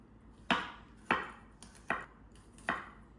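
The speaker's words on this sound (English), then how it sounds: "then I have some garlic which I'm going to cut up right now" Fresh garlic chopped with a knife on a board, four sharp, close knocks spaced about half a second apart, quiet and crisp with no talking.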